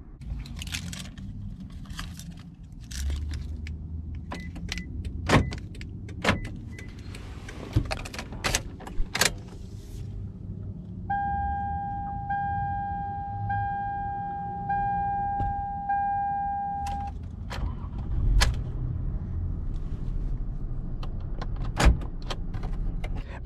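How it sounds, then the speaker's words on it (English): Inside a 2007 Toyota Camry SE at the start of a test drive, quiet cabin sounds: scattered clicks and knocks, a power window motor whirring for several seconds, and a low idling hum, no talking. "Today we're going to go for a POV ASMR style test drive on this 2007 Toyota Camry SE."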